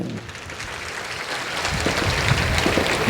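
An audience applauding at a comedy and mimicry show during a temple inauguration event, a dense, continuous patter of clapping that swells slightly toward the end, heard from within the crowd.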